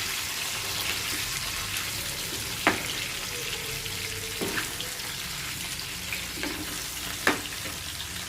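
Chicken drumsticks frying in masala over a slow-to-medium flame give a steady soft sizzle, with occasional sharper clicks and scrapes as the pieces are turned in the pan.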